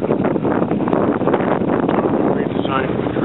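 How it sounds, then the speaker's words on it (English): Strong wind buffets the microphone outdoors beside a solar tracker demo display in a loud, continuous roar, with a voice partly buried beneath the rumble. "It's very windy, I hope you can hear this okay."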